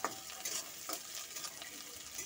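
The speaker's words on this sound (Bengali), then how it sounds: "পেঁয়াজটাকে দেখুন একটু লাল করে কিন্তু ভেজে নিচ্ছি।" Onions stirred in a pan as they fry to brown, a continuous soft sizzle broken by quick scraping stir strokes, close and fairly quiet.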